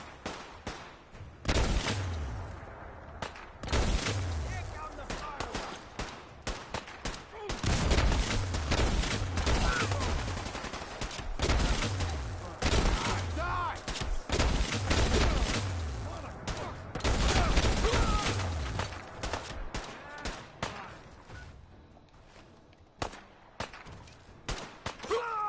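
Rapid bursts of gunfire in Fallout 4, crackling shots and heavy impacts packed close together over about twenty-five seconds, with brief lulls between loud volleys and some voices mixed in.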